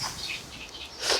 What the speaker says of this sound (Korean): 연밭에서 새소리가 나는 게 되게 신기한데,